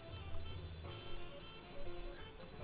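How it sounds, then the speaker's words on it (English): A Canon GL2 camcorder gives faint, repeated electronic beeps as a shutdown warning, short tones spaced about a second apart over a low background hum. "I guess it was the GL2 telling me it's going to shut off."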